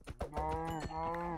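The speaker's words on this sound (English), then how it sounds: "Holy shit, a fucking cow." A cow in the video game Minecraft gives a low, droning moo with a few soft knocking sounds at its start. It is close and steady for about a second.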